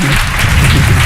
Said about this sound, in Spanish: Un aplauso para Joan Tarrida, que está ahí.